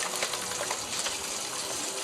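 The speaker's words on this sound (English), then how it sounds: "So I'm going to put on hot water, scrub, get some soap," Hot water runs from a tap for hand washing, a close, even gush that stays steady throughout with no talking.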